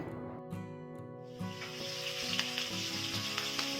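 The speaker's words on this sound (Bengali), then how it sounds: "তেল গরম হয়ে গেছে মাছগুলোকে এবারে একটা একটা করে দিয়ে দিচ্ছি তেলের মধ্যে" Rohu fish pieces drop one by one into hot mustard oil in a wok, the sizzle swelling into a steady crackling hiss over a low hum, close and loud, without talk.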